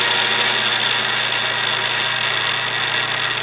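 A tapping machine reverses a tap back out of a cast iron Corvair flywheel, a steady motor hum with a low buzzing drone, loud and continuous for a few seconds with no speech.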